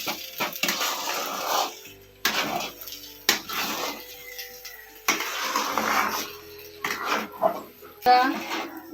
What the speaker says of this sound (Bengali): ঘি দিয়ে এবার ওকে নাড়াচাড়া করতে হবে।